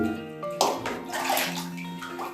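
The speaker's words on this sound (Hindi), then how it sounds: "मैं इसमें पानी भर रहा हूँ क्योंकि मैं इसकी सिर्फ टेस्टिंग लेने जा रहा हूँ" Water pours and splashes steadily into a homemade top-on water filter being filled for a leak test, a continuous close, moderately loud rush with bubbling gurgles and no talking.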